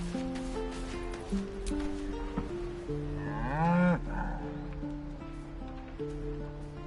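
A cow lows in Baldur's Gate 3, one long drawn-out moo rising and falling, set against soft background game music.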